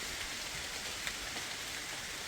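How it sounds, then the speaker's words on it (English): Heavy rain pours steadily outdoors on a farm, a dense, even hiss of drops with no breaks and no voices, close and loud. "All of a sudden, just the sky opened up and just started pouring."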